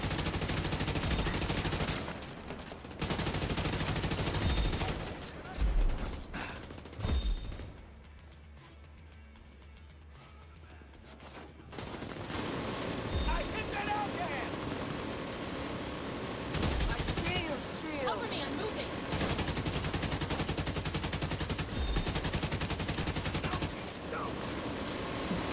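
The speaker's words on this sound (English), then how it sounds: "Feels weird to fire a TKV without recoil." Automatic rifle fire from a TKV in the video game The Division, loud bursts of shots with a quieter lull in the middle, mixed with game effects.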